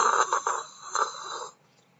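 A voice imitates the steady electronic hiss of recording equipment, a breathy wind-like whoosh held for about a second and a half before trailing off into quiet.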